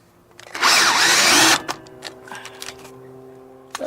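A power drill driving a screw into an RV fresh water tank mount, one loud continuous whir of about a second, followed by faint clicks and handling noises.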